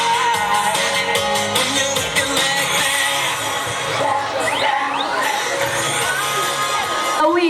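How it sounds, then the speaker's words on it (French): A school student-government ceremony crowd cheers, shouts and applauds as young women make their entrance, a loud, dense, continuous roar of many voices and hands throughout. "Est-ce que vous pouvez applaudir pour ces magnifiques demoiselles?"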